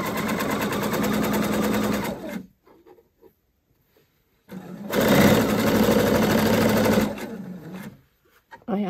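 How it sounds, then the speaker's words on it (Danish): Sewing machine stitching a zippered pouch, heard as two close, loud bursts of fast rhythmic motor-driven stitching, each about two seconds long, with a pause between them. "Og så skal jeg sy op til mit andet hak her."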